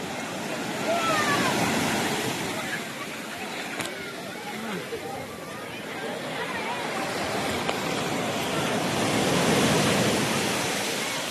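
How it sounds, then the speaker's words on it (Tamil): Early-morning sea waves break and wash along the shore in a steady, broad surf roar that swells and eases over several seconds, with nothing standing out on top. "கடல் அலை."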